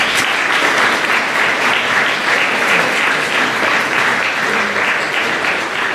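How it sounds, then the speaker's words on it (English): Pupils applauding parents at a school awards ceremony, a loud, even, unbroken roar of many hands clapping close by for several seconds. "Nice round of applause"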